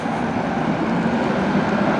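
Interior rumble of a packed Blackpool tram running along its track, a steady broadband roar of motor and wheels with no distinct events, loud and continuous throughout.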